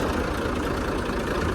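A tractor engine runs on a dairy farm with a steady, close, rough low rumble throughout, uninterrupted by speech.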